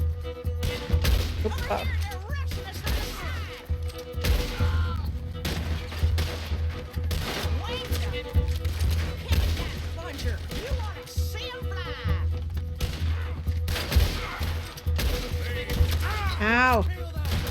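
Gunfire in Red Dead Redemption, steady crackling shots scattered throughout under constant talk from players.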